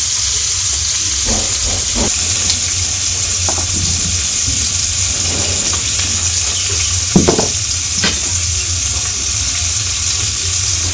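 Fish frying in a pan in a village kitchen, a loud continuous sizzle and hiss with a low rumble beneath and a few scattered clinks and pops.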